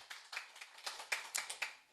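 Sparse, rhythmic clapping at a pastors' conference, roughly a dozen distinct claps in two seconds, faint and close, with no talk over it.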